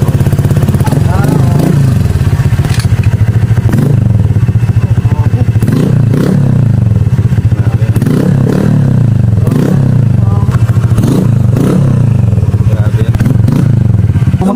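Honda Click scooter fitted with a full-system aftermarket exhaust muffler revving repeatedly, each throttle blip rising and falling over a steady idle, loud and close, with people talking nearby.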